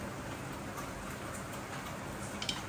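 Heavy rain falls steadily outdoors during a chilli tikka cookout in continuous dense patter, with faint ticking drops and a brief sharper splash near the end, no voices.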